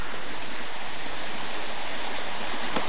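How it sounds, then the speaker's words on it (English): Babbling Creek rushes beneath the Academia Covered Bridge, a wooden bridge built around 1901 or 1902, its water running high after heavy rain and snowmelt in a steady, close, broadband roar. "You got Babbling Creek going into this."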